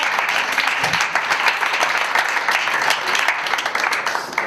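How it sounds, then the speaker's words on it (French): Audience applause during a forum theatre session on Alzheimer's, a sustained burst of many hands clapping fairly close and loud, even and continuous throughout with no speech over it. "On peut applaudir Alexandra."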